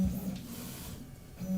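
3D printer Z axis moving with its unsupported aluminum bottom panel resonating, a steady low droning hum that dips briefly in the middle and swells again at the end, close and alone.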